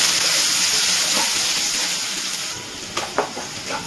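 Onions sizzling in hot oil, a loud steady hiss with watery crackle that eases slightly midway, then a few sharper pops and spits near the end.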